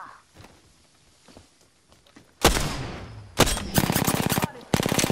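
Apex Legends gunfire: after a few quiet footstep-like taps, loud bursts of rapid automatic weapon fire crack out close by, separated by short pauses.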